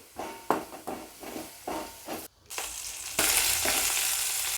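Nalleru stems frying in a pan for chutney, a steady sizzling hiss broken by regular stirring scrapes, then swelling into a louder, continuous sizzle near the end.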